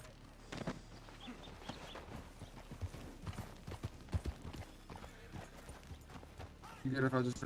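Horse hooves clip-clop in an irregular walking rhythm in a western roleplay video game, under near-constant voice chat between players, with a brighter burst near the end.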